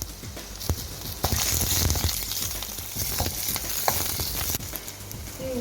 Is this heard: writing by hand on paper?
no